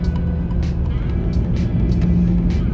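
A car drives on the road toward the new Llogara tunnel between Vlorë and Dhërmi in Albania, its engine and tyre rumble a steady, close drone throughout while people talk inside.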